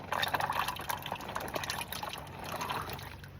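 Liquid poured over hard carp fishing boilie baits to soak them, a steady close splashing and trickling stream with faint drips, running alone throughout.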